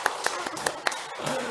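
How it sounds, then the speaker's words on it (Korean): A church congregation claps briefly, a few sharp separate claps about a fifth of a second apart, fairly close and moderately loud, with voices murmuring alongside. "우리 박수로 축복하겠습니다."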